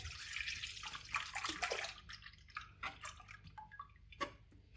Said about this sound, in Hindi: यहाँ पे 1 लीटर हम दूध डालेंगे